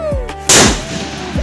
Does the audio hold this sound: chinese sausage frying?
no